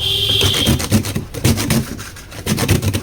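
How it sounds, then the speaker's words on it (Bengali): Pointed gourd (potol) rubbed over a handheld grater, a close, rhythmic series of rasping strokes, each a short scraping burst repeating about every half second. "আমি এখন পটলটা গ্রেট করে নেব গ্রেটার মেশিন নিয়েছি তো আমি একে একে সবগুলা পটলই এইভাবে গ্রেড করে নিচ্ছি"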